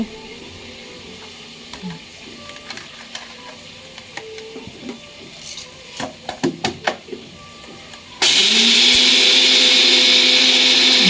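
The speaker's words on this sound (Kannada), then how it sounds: "ನಾನು ಇವಾಗ ಮತ್ತೆ ಸ್ವಲ್ಪ ಹಾಕ್ಕೊಂಡು ರುಬ್ಕೊಡ್ತಾಯಿದ್ದೀನಿ" A mixer grinder blitzes gram flour into a fine powder for chicken keema, a loud steady motor whine cutting in near the end after clattering and knocking sounds.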